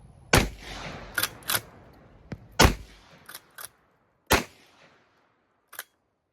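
Winchester 1901 lever-action 10 gauge shotgun fired outdoors: several sharp, loud blasts spaced irregularly across the clip, each with a short decaying tail, interspersed with fainter clacks of the lever action.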